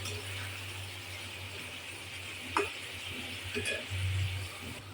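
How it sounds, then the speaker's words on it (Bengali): Prawns and mixed vegetables are stirred and sautéed in a pan for a curry, giving a low continuous sizzle with occasional scraping clicks of a spoon against the pan, fairly quiet and steady. "এই যে দেখতে পাচ্ছেন আমি এখনও কষাচ্ছি"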